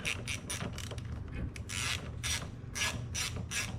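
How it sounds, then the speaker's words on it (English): A ratchet wrench works on the intake of a 2005 Honda CR-V during a motor mount job, giving repeated short clicking strokes in an uneven rhythm, close and fairly quiet with no voices. "Grab 2mm ratchet."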